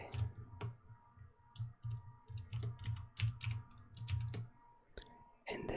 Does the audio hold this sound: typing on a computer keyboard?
yes